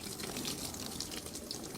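Water poured from a mug onto a taro leaf makes a steady, soft splashing trickle, quiet and continuous for a couple of seconds.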